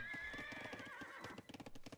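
Scout cavalry horses in a real-time strategy game whinny over a rapid clip-clop of hooves, the neigh sounding first and the hoofbeats continuing in quick rhythmic bursts.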